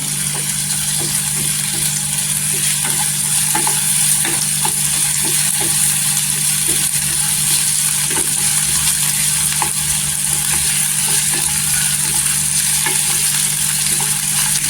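Potatoes frying in a pan until golden for varai (bhagar) upma, a steady sizzling hiss with faint stirring clicks throughout, no talk.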